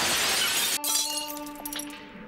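Window glass shattering loudly as a villain crashes through it in a spaghetti western film scene, a dense burst of breaking glass that gives way to tinkling shards and a fading ring.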